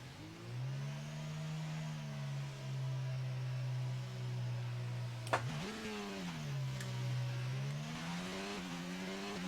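Racing-car engines launch at a race start in the F1 22 video game. A droning engine note holds, then a sharp click and a jump in pitch mark a gear change before the whine climbs again, with no speech.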